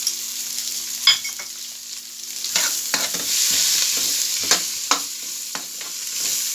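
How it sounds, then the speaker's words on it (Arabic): Onion wedges tossed with spices sauté in a pan on a home gas stove, a steady sizzle running under repeated scraping strokes of a spoon stirring, close and moderately loud with no talk. "هنشوح البصلة كده"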